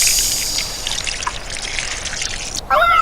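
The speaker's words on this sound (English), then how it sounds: "The water comes spurting out the hose." Water spurts from a garden hose in a children's audiobook sound effect, a hissing, trickling spray lasting a few seconds before a brief chime-like sound at the end.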